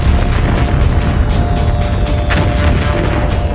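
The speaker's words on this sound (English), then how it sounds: "The delinquent firework display continues as the factory burns throughout the night." Fireworks go off inside a burning factory at night, a dense, continuous roar of booms, crackles and rumbling blasts with no break.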